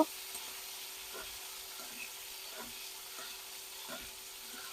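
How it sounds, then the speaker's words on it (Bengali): Fish fries lightly in a pan for a bitter gourd fish curry, a steady soft sizzle broken by several quiet scraping stirs spaced about a second apart, with no voices. "আর এই যে মাছগুলো খুব বেশি ভাজিনি, হালকা ভাবে ভেজে নিয়েছি। একটুখানি নাড়াচাড়া করে নিয়ে মশলা দিয়ে দেব"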